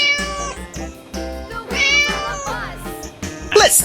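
A cartoon cat in a 3D animal slide game meows several times in quick succession, clear and close, the calls riding on upbeat game music with a brief sharp effect near the end.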